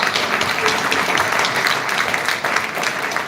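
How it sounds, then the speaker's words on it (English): Audience applause at a village hall board meeting, a dense steady burst of many hands clapping that continues throughout. "Let's give him a round of applause."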